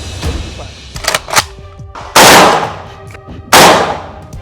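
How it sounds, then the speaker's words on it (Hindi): An AK-203 assault rifle fires 7.62 mm rounds at a test range in Moscow, giving several loud, sharp reports, with the last two blasts ringing out in long, echoing decays. "AK-203 से फायरिंग कर दुनिया के सबसे आधुनिक राइफल की ताकत आजमाई"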